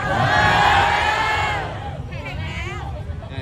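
A crowd of fans at an Oishi x One Piece event shouting and cheering loudly together. The roar fades after a second and a half into lower murmuring and babble.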